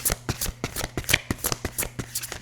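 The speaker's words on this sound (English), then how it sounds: "So let's pull some cards." Tarot cards being shuffled up close, a steady, fast riffle of crisp papery flicks repeating evenly for a couple of seconds with no voices.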